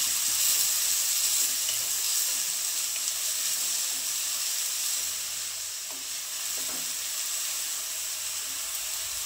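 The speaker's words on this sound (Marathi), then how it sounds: "आता कांदा छान असा लालसर होईपर्यंत आपल्याला परतून घ्यायचा" Finely chopped onion sautés in hot oil in a pan for an egg masala, giving a steady, close sizzle with soft hissing throughout and no talking.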